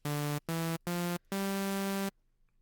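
Synthesizer oscillator playing a hand-drawn squiggly waveform: three short buzzy tones followed by a longer sustained one, bright and harmonically rich, cutting off into near silence.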